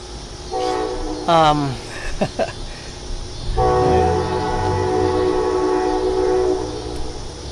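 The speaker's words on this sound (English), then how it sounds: "there's the train." A train rolls past with its horn sounding, one short blast followed by a long sustained one over a steady rumble of wheels and rail noise, loud and close, with people talking faintly.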